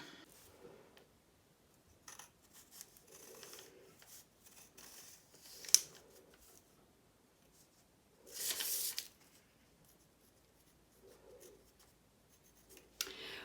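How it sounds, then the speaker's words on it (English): A pen or pencil sketches measurements on a surface during a carpet fitting in an entrance room makeover, giving faint, intermittent scratchy strokes in short bursts separated by quiet gaps, with one louder scrape near the end. "Let me just sketch it out."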